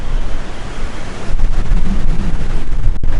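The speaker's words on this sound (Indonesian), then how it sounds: "anginnya kenceng banget, sumpah" Strong wind gusts over a beach campsite, a loud, steady broadband roar that swells louder partway through, with surf-like rushing and no speech.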